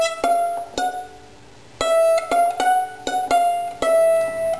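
Fiddle playing a short passage from the tune Draggin' the Bow, with a series of clear bowed and plucked-sounding notes in uneven rhythm, close and moderately loud, with brief gaps between phrases and no talking.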